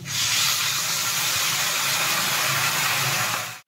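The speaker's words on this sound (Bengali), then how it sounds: "এরপর আমি জল দিয়ে দেব।" Water poured into a hot pan of frying potatoes gives a loud, continuous steamy hiss and sizzle that holds for a few seconds and then cuts off abruptly.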